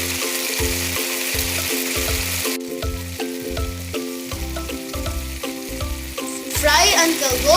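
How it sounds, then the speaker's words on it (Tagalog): Turon rolls fry in hot oil with a continuous bright sizzle, partly buried under loud rhythmic background music that dominates the low end throughout. "Can you hear that sizzle? That's the sound of deliciousness."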